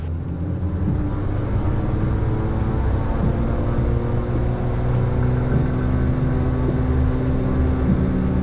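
A light aircraft's engine runs at full power on the takeoff roll down runway 24, a loud, steady droning hum with a constant pitch throughout and no talk.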